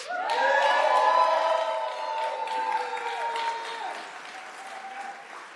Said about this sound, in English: some of y'all clapping